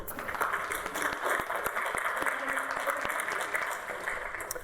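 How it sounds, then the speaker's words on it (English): An audience at a debate in Temple Judea, Tarzana, California, breaks into sustained applause, a dense, even wash of many hands clapping at close range that holds steady throughout. "I think Alan does deserve a round of applause"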